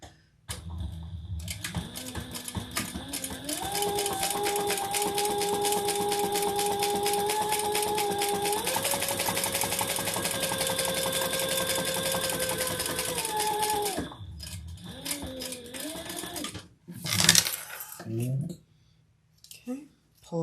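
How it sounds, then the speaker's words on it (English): A sewing machine stitches fabric together for a harmonica hobo bag, running in one long steady whir for about twelve seconds, then a couple of short bursts and handling noises, close up. "let's sew that together"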